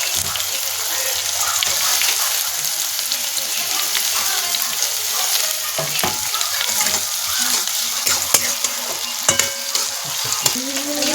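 Tomatoes added to reddish fried onion in a hot pan while cooking spicy noodles, a continuous close sizzle and hiss with scraping and clinking of a stirring spoon.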